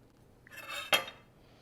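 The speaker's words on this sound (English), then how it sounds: "I'm just using a strawberry huller as a tool for that." Metal strawberry huller scraping and digging out the insides of a tomato, a soft wet scrape building then a single sharp clink of metal against a dish, close and alone.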